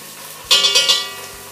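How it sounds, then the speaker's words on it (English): Garlic and Dijon mustard stirred into warm olive oil in a pot, giving a brief burst of soft sizzle and scraping that starts midway and fades over about a second. "Mix it in with the olive oil."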